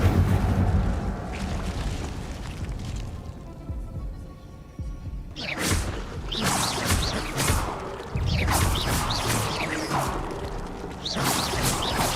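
The Incendio fire spell cast in Hogwarts Legacy, heard as repeated loud, bursting whooshes of flame over a low rumbling game ambience, with about three strong blasts in the later part.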